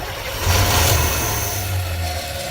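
A camper engine cranks and spins over after the key is turned, a low, loud mechanical churning that holds steady for a couple of seconds without catching.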